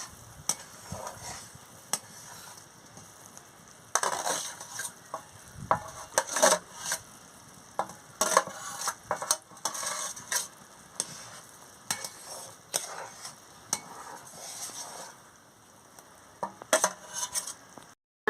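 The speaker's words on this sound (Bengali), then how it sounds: "এবার আমি ওর সঙ্গে আমটা মিশিয়ে নেব দেখুন বন্ধুরা আমটা মিশিয়ে নিচ্ছি" Chopped mango being stirred into boiled sago in a pot: intermittent wet scraping and soft knocks of a spoon, coming in uneven bursts separated by quieter pauses.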